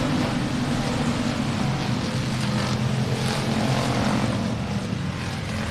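Jet-powered factory stock race boats roar on a raceway, a steady, dense engine and jet rush that stays loud and constant throughout, with no pauses.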